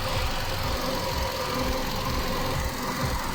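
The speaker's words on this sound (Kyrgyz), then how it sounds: "Қазір мен сіздерге моторды көрсетемін, мінеке." A 2012 Kia Ray car engine, a clean Korean import in excellent condition, idles steadily up close, with a low rhythmic throb and a constant hum and no voices.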